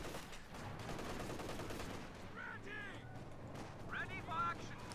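Gunfire from a Company of Heroes 2 winter battle crackles in scattered bursts and rattles at mid distance, mixed with other battle noise and a few short bird-like chirps.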